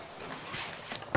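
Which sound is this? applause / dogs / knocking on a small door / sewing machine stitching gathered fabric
dogs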